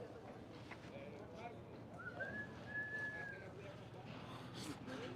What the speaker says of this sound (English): Somebody's whistling.